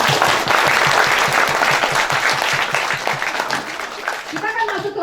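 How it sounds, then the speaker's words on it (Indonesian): A group in an indoor session claps together in a loud, rhythmic unison beat for several seconds, then loosens into scattered clapping as chuckles and voices rise near the end. "Nah Bu, kita tepuk tangan dulu boleh."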